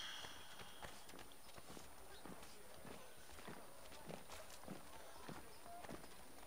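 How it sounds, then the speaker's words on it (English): Horse hooves clop along behind a walking player in Assassin's Creed III, a steady, moderately close rhythm of footfalls over faint background ambience. "I'm being stalked by my horse."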